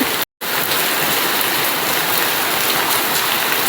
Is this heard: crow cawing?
no